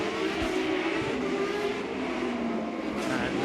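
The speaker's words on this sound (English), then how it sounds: "as the engines howl away up the pit straight" Formula Renault 3.5 race cars at Zolder howl away from a standing start in 2006, a dense, continuous roar of engines accelerating up the pit straight with rising tones layered together.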